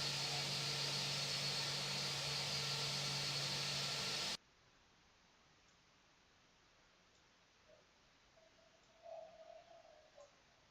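An American Airlines A321 taxis in Flight Simulator X: a loud, steady jet-engine roar holds for several seconds, then cuts to a much quieter hum with faint chirps.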